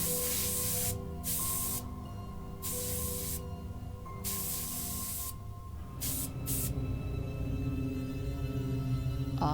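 Aerosol spray can hissing in bursts while painting a wig in True Fear: Forsaken Souls 3, several short sprays followed by a longer, steadier hiss over a quiet background hum.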